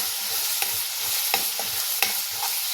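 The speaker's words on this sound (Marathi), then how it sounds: "हे एकत्र छान आपल्याला परतून घ्यायचे तेलावर परत मोठ्याच गॅसवर" A spice mixture of sugar, salt and Byadgi chilli powder sizzles steadily in oil over a high flame, with sharp scraping stirs breaking through the hiss about once every half second.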